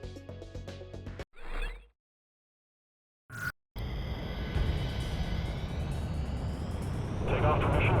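Fighter jet in Ace Combat 6 spooling up for takeoff, a broad engine roar building and rising after brief cuts and near-silence, with a voice speaking early on.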